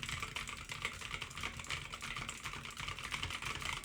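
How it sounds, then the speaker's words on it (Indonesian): Typing on a computer keyboard captured by an Alctron condenser microphone, a continuous close patter of quick key clicks with no talking. "Sekarang kita ngetik."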